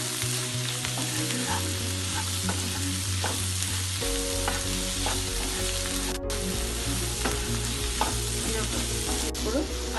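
Ivy gourd (dondakaya) frying in a pan with salt, a dense, continuous crackling sizzle with occasional stirring clinks and pops, close and steady throughout, with no voices.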